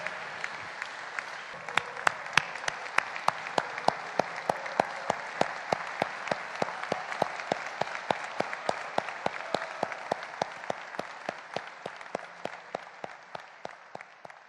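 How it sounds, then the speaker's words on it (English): Sustained audience applause at an evening gala and fundraiser honoring award recipients, many hands clapping steadily with sharp individual claps standing out, loud throughout and easing slightly toward the end. "could we give all of tonight's recipients a round of applause?"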